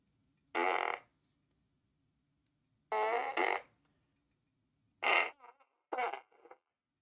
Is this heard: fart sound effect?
yes